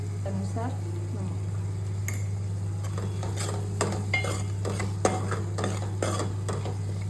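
Tomatoes and chutney cook together in a pan for ragda, with soft sizzling and spoon scrapes and clinks against the pan over a steady low hum, quiet and close.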